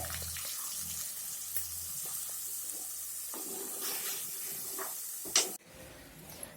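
Water from ground mint is poured into a hot pan while making mint chutney, producing a steady hissing sizzle that cuts off abruptly, followed by quieter pan noise.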